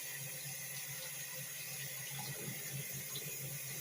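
Tap water runs steadily into a sink while raw chicken is rinsed under it, a constant close splashing flow with small shifts as the meat is moved.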